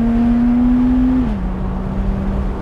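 A Lotus Exige Roadster with an automatic paddle-shift gearbox holds a steady, loud engine drone near 4,000 RPM at about 60 mph. The pitch drops smoothly partway through as the gear changes up, and no one speaks.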